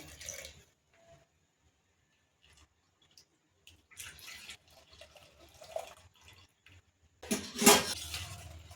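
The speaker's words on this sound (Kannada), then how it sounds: "ಇದು ಬೆಲ್ಲ ಕಾಯಿಸಿದ್ದೀನಿ ಇದನ್ನು ಫಿಲ್ಟ್ರ್ ಮಾಡ್ಕೊತೀನಿ ಕಾಯಾಲಿಗೆ" Melted jaggery syrup is poured through a filter into a kadai, quiet at first with faint trickles, then soft splashing pours building to a louder gush of liquid near the end.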